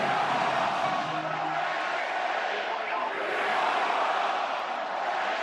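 A large stadium crowd roars at an Oregon versus Penn State college football game, a steady loud wall of cheering that swells slightly midway and never lets up.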